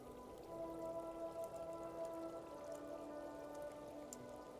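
Rain falls in the cozy video game Tiny Bookshop, a soft, steady patter of drops spread evenly over several seconds beneath quiet background music, with no talk over it.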